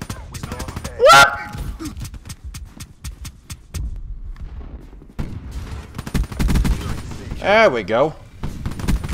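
Gunfire in Black Ops 3 rattles in rapid bursts of sharp shots aimed at the player, loud and close and broken by short gaps, amid other game effects and a man's brief remarks.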